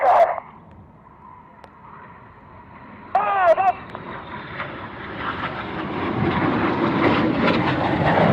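Korean Black Eagles jets fly an airshow display, their engine roar building from distant to a loud, sustained rumble, with a brief high whistling swoop midway and an announcer's voice at the start.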